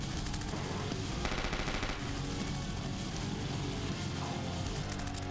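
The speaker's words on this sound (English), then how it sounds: "Where's my auto turret? There it is. Get him. Start shooting." An auto turret firing in the Project Warlock video game, fast rapid-fire bursts chattering continuously and densely throughout, fairly loud and steady with no pauses.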